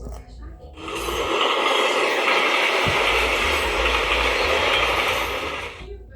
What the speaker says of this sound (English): The Southern Railroad steam locomotives were rather varied